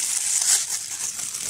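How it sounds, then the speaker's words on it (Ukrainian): A thin plastic parcel bag is torn and crinkled up close, a brief crisp rustle with sharp, papery crackling. "Ось такий пакетик, який ось так рветься, бачите."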